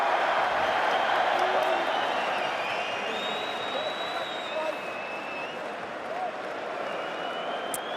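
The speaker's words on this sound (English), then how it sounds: "This is called a crowd." A boxing crowd in a video game of Anthony Joshua vs Joseph Parker applauds and cheers steadily as a dense, continuous wash of clapping, loud and sustained throughout.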